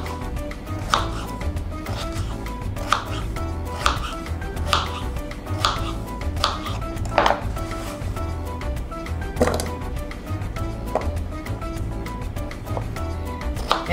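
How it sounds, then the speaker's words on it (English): A knife chops steadily through a potato on a cutting board, firm knocks landing at an uneven, unhurried pace. "Chop the potato up."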